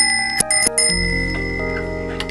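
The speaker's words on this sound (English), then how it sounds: "just put a bike bell inside the zipper" A bicycle bell rings several quick, bright trills up close, then its metallic tone lingers and fades alone over a faint low hum.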